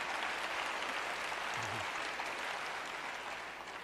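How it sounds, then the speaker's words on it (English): Faint, distant audience applause during a recorded conversation, a steady wash of clapping that gradually thins toward the end. "I'm going to have less applause."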